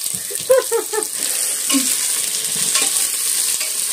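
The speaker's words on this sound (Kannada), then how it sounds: "ನಾನಿವಾಗ ತೊಗರಿಕಾಳು ಸಾಂಬಾರು ಮಾಡೋಕ್ಕೆ ಒಗ್ಗರಣೆ ಹಾಕಿದ್ದೀನಿ" Tempering for fresh pigeon pea sambar sizzles in a hot pan, a steady bright frying hiss with a few stirring clatters of a spoon against the pan near the start, close and fairly loud.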